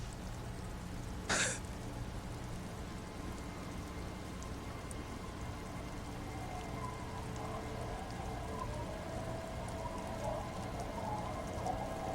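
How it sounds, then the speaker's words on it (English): Rain falling in the video game Disco Elysium, a soft, steady patter over a low ambient hum, with one brief sharp knock early on and faint tonal game sounds drifting in later. "It's getting late, and it's raining."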